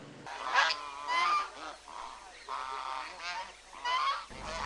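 Geese on a goose farm honking repeatedly in loud, nasal bursts, several birds calling close by with short pauses between calls.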